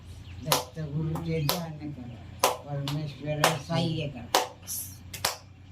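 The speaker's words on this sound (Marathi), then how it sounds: "तू एकटेच टाळ्या वाजवणार आहे का" A few people at an old-age home during a Datta Jayanti gathering clap in sharp irregular bursts, loud and close, mixed in with ongoing talk.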